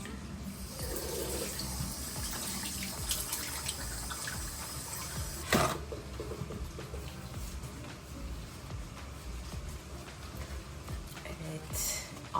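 Water running from a bathroom tap while a face is washed, a steady close splashing rush with occasional louder splashes and hand movements, continuous throughout.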